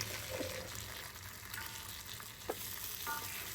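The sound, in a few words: fish pieces frying in oil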